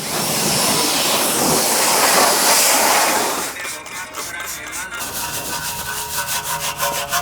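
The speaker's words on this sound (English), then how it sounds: "just from a little bit of scrubbing, look at the difference between this barrel" Scrubbing of a car alloy wheel barrel to lift rust and brake dust during a mobile detailing wash: a dense, steady brushing rasp fills the first few seconds, then gives way to rhythmic, slightly wet scrubbing strokes, close and fairly loud.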